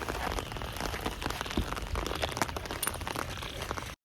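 Steady rain falling outdoors, a dense continuous patter of drops striking surfaces that runs at an even, moderate level for about four seconds and then stops abruptly, with no voices.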